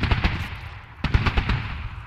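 Rapid gunfire and mortar blasts in a video game battle ring out as loud, clustered bursts, with a heavy pause before a fresh volley of sharp shots.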